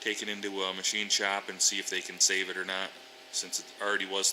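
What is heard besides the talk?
No everyday noises stand out.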